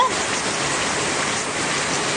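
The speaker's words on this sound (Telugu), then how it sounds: "ఎంత పెద్ద వర్షం" Heavy rain pours down steadily over a village during the planting season, a loud, dense, unbroken hiss of water close by that holds level for the whole stretch.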